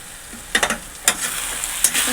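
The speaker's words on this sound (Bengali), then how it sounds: "একটু মশলাগুলো ভালো করে কষানো হোক" Spices for a sardine fish curry fry in a pan with a brief sizzle and a few quick spatula scrapes, close.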